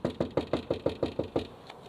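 Someone knocks on the door of a house in Albuquerque, about ten evenly spaced, firm raps close by, the final one softer, with no voices.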